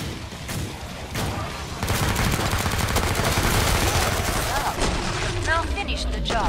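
Rapid automatic gunfire from the video game Killing Floor 2 during a boss fight, loud and continuous, with dense bursts of shots and booming impacts layered on top of each other.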